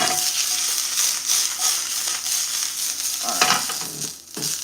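Salmon sears in a hot pan with a loud, close, continuous sizzle, briefly swelling and dipping near the end as the fish is shifted, and no voices over it.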